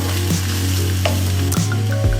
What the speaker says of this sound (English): we're going to go ahead and add that meat back. Give that a nice stir.